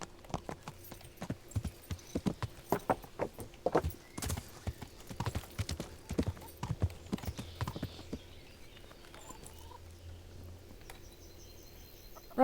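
Horse hooves clip-clop in the medieval video game Kingdom Come Deliverance, a quick, steady run of hoofbeats on hard ground, soft and fairly close, thinning out and fading toward the end.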